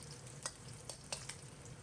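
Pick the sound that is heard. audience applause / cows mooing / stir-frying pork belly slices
stir-frying pork belly slices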